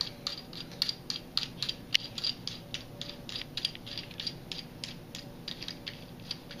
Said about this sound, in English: so what you're going to do is unscrew your drag